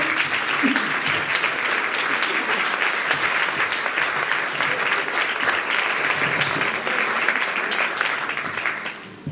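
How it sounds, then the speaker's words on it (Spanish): An audience at a book presentation claps steadily and loudly for several seconds, the applause tapering slightly at the end. "Un aplauso."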